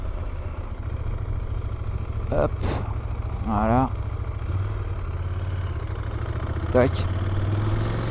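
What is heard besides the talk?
CFMoto 1000 MTX big twin motorcycle engine running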